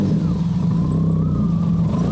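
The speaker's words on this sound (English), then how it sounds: "Here's a cold start." A golf kart engine, set up for a 24 Hours of Lemons race, runs cold just after starting, giving a loud, steady, low rumbling idle close by.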